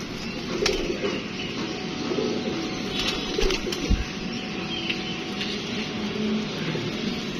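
Fransa pigeons coo softly in low, throaty bursts amid steady background noise, with a few sharper knocks and rustles close by.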